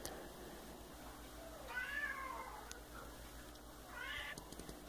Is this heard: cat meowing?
yes